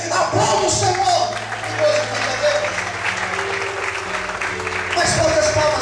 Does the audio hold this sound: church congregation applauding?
yes